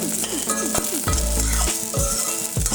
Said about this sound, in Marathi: वास येतो का, वास येईपर्यंत भाजायचं.